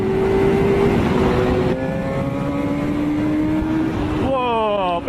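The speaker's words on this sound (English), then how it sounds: "Whoa, build those revs up." A Kawasaki ZX7 superbike engine revs hard, its pitch climbing steadily through the gears before a sharp rise and fall near the end, loud and close, with a voice speaking over it.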